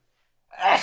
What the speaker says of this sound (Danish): Jeg skal nyse.